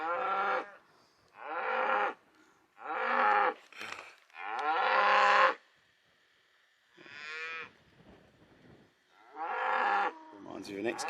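Cattle on Dartmoor moo over and over, with about seven long, loud calls close by and short pauses between them. No one speaks.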